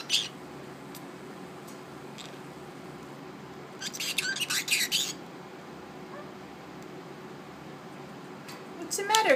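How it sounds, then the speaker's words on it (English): A pet bird kept in a cage gives short bursts of high chirps, a cluster midway and another at the end, while a person talks softly nearby. "she's a silly pretty bird"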